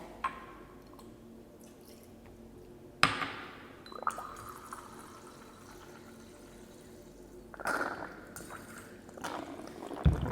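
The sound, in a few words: water being poured into a beaker of lithium oxide powder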